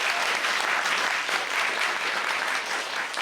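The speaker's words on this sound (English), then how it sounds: "Round of applause for our audience volunteer." An audience applauds a volunteer at an improv theatre show, a steady dense wash of clapping from a full room that holds evenly throughout without pause.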